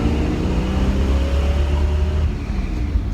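A loud car engine holds a steady high-rev drone at peak spin, close and continuous, easing slightly toward the end with no talk over it.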